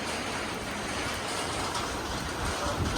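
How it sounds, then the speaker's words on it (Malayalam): A river flowing through snowy mountains near Manali makes a steady, broadband rush of water that stays continuous and even, with no voices over it. "ഇത് ഒരു പുഴയുണ്ട് ഒഴുകി പോയിക്കൊണ്ടിരിക്കണ"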